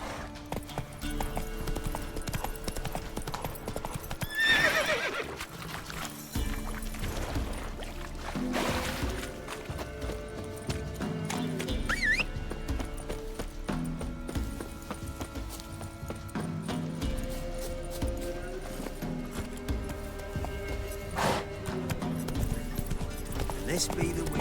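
Roach, a horse in The Witcher 3, gallops with rhythmic clip-clop hoofbeats under game ambience, while a voice speaks over it and a neigh is briefly heard.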